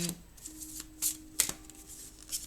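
Oracle cards shuffled and drawn by hand, a series of crisp riffling and flicking bursts with soft slides between, close and fairly quiet, no speech.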